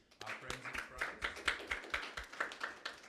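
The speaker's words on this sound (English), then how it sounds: "let's give a round of applause to our friends in France" Brief indoor applause from a conference audience, steady rhythmic clapping by a modest group for about three seconds.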